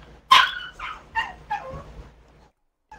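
A dog in the video game The Division lets out a loud sharp bark followed by four or five quicker, fading barks in a rapid run, then goes quiet.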